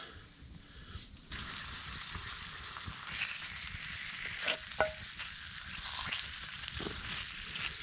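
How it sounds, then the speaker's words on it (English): Eggs and a fry-up sizzling in a pan over a campfire at a bush camp, a constant close crackling fry with a few pops and scrapes, no voices. "I'll start the fry up, and I'll move them aside, put the eggs on"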